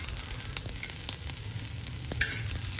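Onion, ginger and garlic sauté in a pan with a steady, close sizzle, an even crackling hiss that runs on without pause and with no voices over it.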